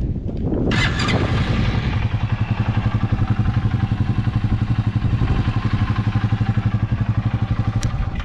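Motorcycle engine after an oil change and carburetor cleaning, starting with a brief revving burst, then idling in a loud, steady, close-up putter with a fast even thump.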